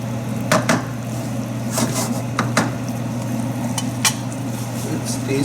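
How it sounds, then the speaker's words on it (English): Parmesan is stirred into a Tuscan butter sauce in a pan over a steady hum, with scattered clicks and scrapes of a utensil against the cookware. "Then we'll add Parmesan, and then we'll mix it to form the sauce."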